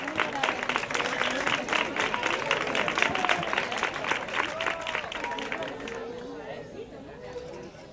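A crowd claps steadily for several seconds while people cheer and chatter, and the noise tapers off toward the end.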